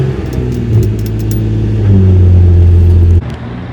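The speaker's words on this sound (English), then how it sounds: "Let's start this car, let that bad boy warm up." Single-turbo Nissan 350Z engine running loud and close, its low exhaust rumble swelling into a sustained rev before cutting off abruptly near the end.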